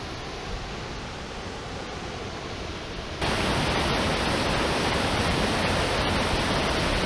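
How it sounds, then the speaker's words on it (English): Water rushes down over mossy rocks in a forest stream during wet weather, a steady dense roar that grows noticeably louder and fuller partway through, with no voices. "Look at the water running down through there."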